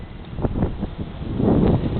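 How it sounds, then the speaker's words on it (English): Wind gusts in a heavy snowstorm, blowing snow around outdoors, roar and buffet against the microphone in uneven surges that swell louder toward the end. "it's windy, so it's like snow just keeps blowing around"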